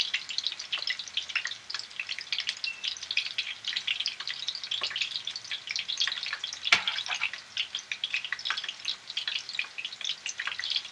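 Meatballs fry in hot oil, giving a steady, dense crackle and sizzle that runs without a break, with a few sharper pops standing out partway through and no voices.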